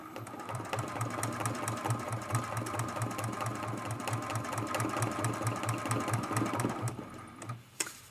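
Close by, a sewing machine free-motion quilts an art quilt, its rapid, regular needle thumping steady over a running motor for several seconds before slowing and stopping near the end.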